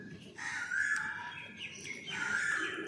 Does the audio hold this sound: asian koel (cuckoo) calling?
yes